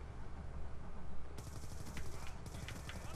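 Gunfire in Black Ops 2 on Wii U during a Team Deathmatch game on the Turbine map: quiet, distant bursts of rapid shots that start partway through and come in short clusters.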